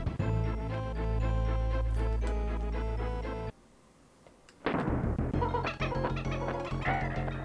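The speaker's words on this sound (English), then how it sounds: "Ah yes, the ghost crow." A ghost crow enemy in a video game gives loud, harsh caws over dense game music and effects. The noise drops out briefly, then returns as a busy burst of cries and clattering sounds.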